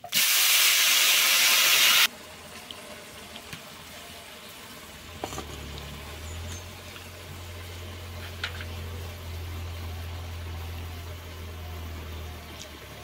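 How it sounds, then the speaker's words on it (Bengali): Vegetables dropped into hot oil in a pan, a loud hissing burst of sizzling for the first couple of seconds that then settles into a quieter steady crackle with occasional small pops. "এই তেলের মধ্যে এই সবজিটি দিয়ে দিই।"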